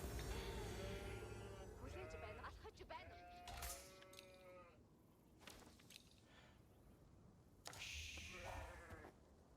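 Sheep bleat repeatedly in the video game Age of Empires 4, several short wavering cries from the game's livestock among other in-game sound effects, with people talking over them.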